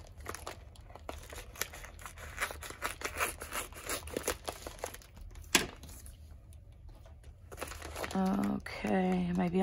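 Scissors snip open a small plastic zip-top bag from a diamond painting kit, with steady close crinkling and rustling of the plastic and one sharper snap midway; a voice starts speaking near the end.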